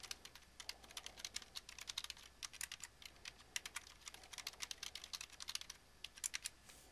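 Rapid, steady typing on a computer keyboard while a password is entered, close and clear, with quick clustered keystrokes and short pauses and no voices.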